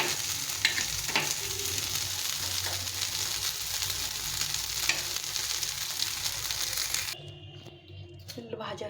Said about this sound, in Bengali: এইভাবে সবগুলো উল্টে পাল্টে ভেজে নিতে হবে।